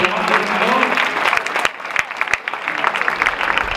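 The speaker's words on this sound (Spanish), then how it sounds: "el juez que estará antes, Jesús Garrido, un aplauso para él, claro," A crowd claps steadily in a reverberant hall at a Basque pelota tournament, the applause thinning into scattered individual claps toward the end.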